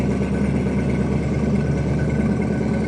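A car built for the Fast & Furious movies sits in a museum with its engine running in a loud, steady, rumbling idle close by, with no voices.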